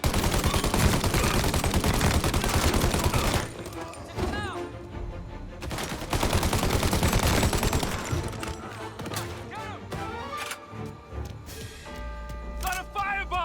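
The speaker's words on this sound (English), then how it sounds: "Gunshots heard." Rapid gunfire in the video game Mafia: Definitive Edition, dense bursts of automatic and repeated shots that come in waves and pause, mixed with game effects and voices talking.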